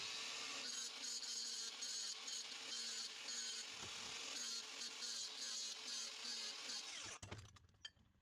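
A power tool deburrs a metal part on a tractor three-point hitch being fabricated, a dense, loud, steady grinding whine that stops abruptly near the end, with no voices.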